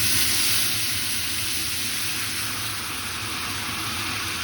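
Steady, loud hissing sizzle of just-boiled water poured into a hot carbon steel pan, a continuous bright crackle that holds throughout without pause.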